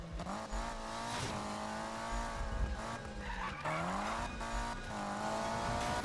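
A car drifts in Need for Speed 2015, its engine droning steadily while the tires squeal in long, continuous sweeps. The sound is loud and close, with no talking.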